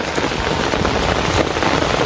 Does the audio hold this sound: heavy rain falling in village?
yes